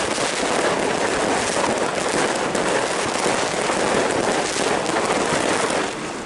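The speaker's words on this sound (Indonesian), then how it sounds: "warga tetap antusias menyaksikan pesta kembang api" New Year's fireworks over Bandung make a dense, continuous crackling roar that stays close and loud, with no distinct single bangs and no voices, and it eases slightly at the very end.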